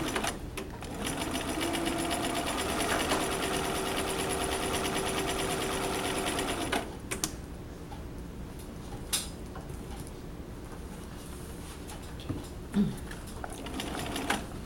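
A sewing machine stitches the top of a collar seam in perma-press fabric, running steadily for about seven seconds before stopping; afterward there are only faint handling sounds and a few small clicks.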